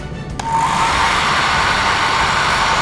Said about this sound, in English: I will use a hairdryer